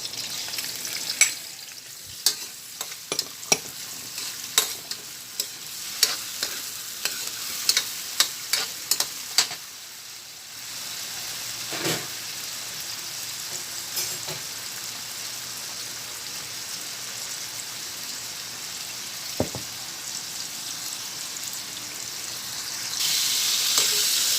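Tomatoes sautéing in a pan for a Quezon-style sinantomas dish: continuous close frying sizzle with scattered sharp crackles and stirring clicks, no voices.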